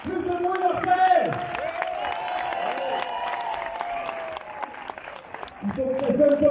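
Audience at a French film premiere applauding and cheering, with broadband clapping throughout, a whistle-like tone and whoops over it, and talk mixed in near the start and end.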